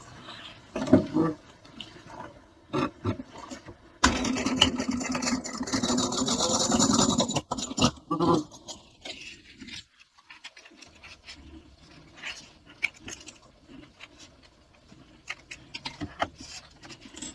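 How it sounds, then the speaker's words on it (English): A sewing machine runs in one steady, whirring burst of about four seconds while stitching rows on a Sewfisticated Be Hip bag. Quieter handling clicks and fabric rustling come before and after it. "now I'm going to do the same thing and stitch 2 rows on this here"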